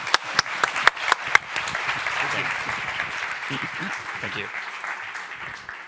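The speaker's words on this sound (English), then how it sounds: "Another round of applause." Audience applause after a debate on the 2019 European elections and the case for and against the EU, loud sustained clapping from a crowd with a few sharp nearby claps at the start and a brief spoken thanks over it.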